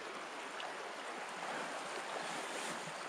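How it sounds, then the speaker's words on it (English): A stream in the Wyoming backcountry flows past nearby, giving a steady, soft, broadband rush of water without any talk. "I just let this run a minute and listen to the water."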